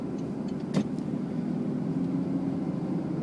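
A car rolls along a Polish road from a green light, heard from inside as a steady low road and engine drone with a brief click, no talk.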